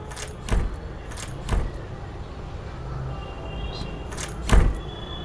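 In the Endless Night video game, a door creaks and rattles on its own with no one touching it: three separate bursts, two close together early on and one louder near the end, over a low ambient drone.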